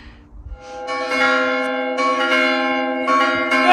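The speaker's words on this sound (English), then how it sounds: "The deserted village with the loud church bells." Church bells ring out loud and close at midday for the Angelus in a deserted village, sustained strokes overlapping in a rich ringing tone, with no voices.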